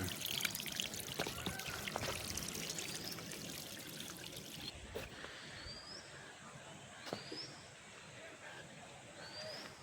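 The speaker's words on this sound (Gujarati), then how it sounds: "ઝરણા જોઈ લો કેમ પડે" Water from a rocky waterfall stream pours and trickles steadily over stones close by, with a few faint bird calls rising above it in the second half.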